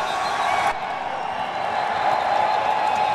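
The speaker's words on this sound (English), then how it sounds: "What a crowd" A stadium crowd at the Daytona Supercross 450 podium roars and applauds in a steady, dense wash of cheering that holds throughout.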